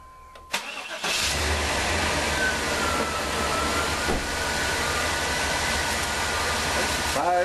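A car engine, its mass airflow sensor just cleaned, cranks briefly and catches within the first second, then runs steadily at a close, even idle for the rest of the clip.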